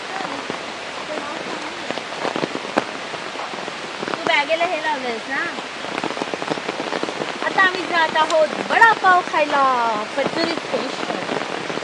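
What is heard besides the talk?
heavy rain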